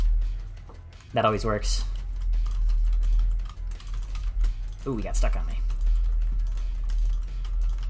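Fast computer keyboard keystrokes while playing a game, a steady clicking patter running throughout, interrupted by two short spoken remarks from a man.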